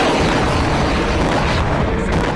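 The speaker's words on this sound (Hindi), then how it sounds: "बीते 24 घंटे से इजराइल पर ऐसा ही बारूदी वज्रपात जारी है।" Rocket and missile explosions striking Israel: a dense, continuous roar of heavy booms and blasts, loud and sustained with no pauses, like a barrage of detonations rolling together.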